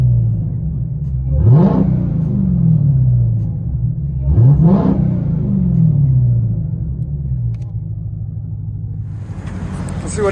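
A supercharged 6.2L HEMI in a Dodge Challenger Hellcat, heard from inside the cabin, rises in two loud revving sweeps a few seconds apart, each falling back to a deep rumbling idle.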